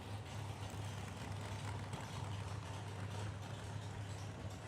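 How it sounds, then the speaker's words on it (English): Whipple-supercharged shorty dragster at a drag strip in Edmonton, a steady low engine drone with a strong humming tone, heard from some distance. "I believe a Whipple supercharged combo in that thing. Sure makes some noise, I'll tell you that."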